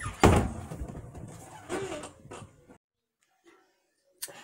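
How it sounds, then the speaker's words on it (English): A door thuds shut indoors with a single solid knock near the start, then near silence follows with another faint bump at the end. "Can you close my door?"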